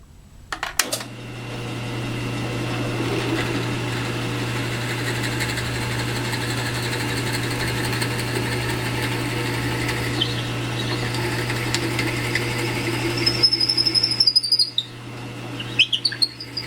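A power drill fitted with a 3/8 bit runs steadily for about thirteen seconds with a constant hum and whine, close and loud, then winds down and stops, leaving a few faint clicks, while making a rolling pin sander.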